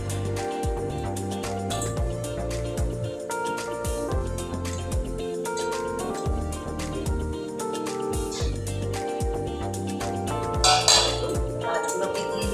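Pieces of chital fish are turned over with spices in a cooking pan, making repeated metallic clinks and scrapes in an irregular, busy rhythm, close and fairly loud.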